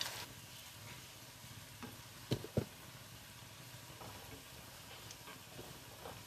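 Soaked lentil snacks fry in hot oil with a steady, faint sizzle while being stirred, and a couple of louder scraping knocks come from the utensil partway through.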